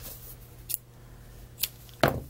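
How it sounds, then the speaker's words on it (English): Scissors snip through yarn in three quick, crisp cuts spaced about a second apart, close and fairly quiet against a soft background hum. "then we're going to go ahead and cut and tie that off."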